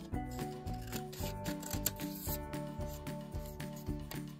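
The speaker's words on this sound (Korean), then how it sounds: "그럼 가위로 잘라가지고 사용할게요." Scissors cut through colored origami paper with a series of soft, quick snips and rubbing sounds, faint beneath steady background music.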